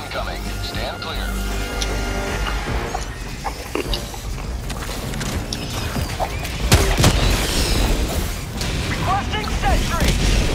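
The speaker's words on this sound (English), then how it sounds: "Orbital barrage incoming." Orbital barrage explosions rain down in Helldivers 2, a dense run of booming blasts and bursts over a busy battlefield, growing heavier after the midpoint, with voices talking over the din.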